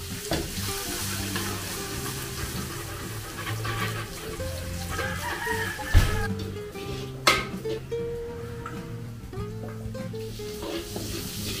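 Garlic fries in cooking oil for chop suey with a steady crackling sizzle, punctuated by a few sharp clanks of a utensil stirring the pan, close and continuous.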